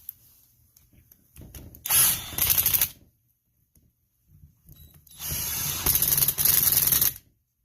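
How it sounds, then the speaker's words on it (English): An impact wrench tightens bolts on a Jeep TJ steering gear box in two short, loud, rattling bursts separated by a pause, close to the microphone. "So now I'm going to go ahead and tighten these up, the impact real fast"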